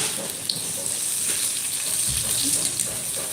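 Chhana aloo tikka, potato and cottage cheese patties, sizzle steadily in hot oil in a home kitchen, a continuous close hiss with faint voices talking in the background.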